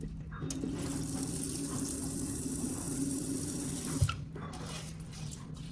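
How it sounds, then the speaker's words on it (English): Water runs in a steady stream into a rice cooker pot holding rinsed rice, a continuous close splashing pour that stops briefly near the end before trickling again. "Then add the right amount of water to cook the rice."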